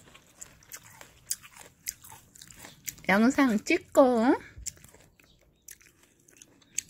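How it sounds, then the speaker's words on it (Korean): Close crunchy chewing of homemade red radish and cucumber water kimchi, scattered crisp bites spread through the stretch, with a voice talking briefly in the middle. "오이도 직접 썰으니까 오이는 더 아삭아삭해요."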